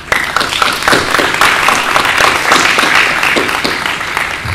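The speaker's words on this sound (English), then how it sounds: "us to give a round of applause to our panel." An audience at a workshop gives a panel a round of applause, dense, even clapping that stays loud and steady throughout with no talk over it.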